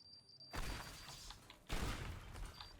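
Explosions tear apart a building in the video game Teardown: two sudden, loud crashing bursts, the second about a second after the first, each trailing off into a rumbling, debris-filled wash.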